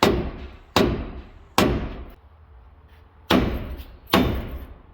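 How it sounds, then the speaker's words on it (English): Five sharp, heavy thuds of a dead blow hammer striking a Ram 3500 wheel hub, spaced irregularly, each ringing briefly before fading; close and loud with no voices. "take a dead blow hammer"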